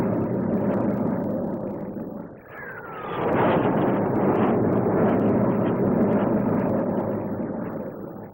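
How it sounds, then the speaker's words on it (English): A Folland Gnat lightweight jet fighter with a Bristol Orpheus turbojet flies past at the 1957 Farnborough air display, a loud roaring rush that swells as it passes overhead and then holds steady. "The Folland Gnat with Bristol Orpheus engine, a single-seat lightweight interceptor and strike fighter."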